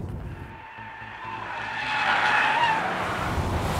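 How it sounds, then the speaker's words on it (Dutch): A Volvo S60 T6's tires skid and squeal as it understeers through a corner, the engine note rising steadily and the screech growing louder and closer. "te vroeg op het gas, glijdt hij netjes over de voorwielen weg"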